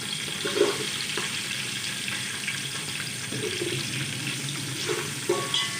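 Onions fry in a pan with green cardamom and black pepper, a steady low sizzle with occasional stirring scrapes and clinks, moderately quiet and without talk.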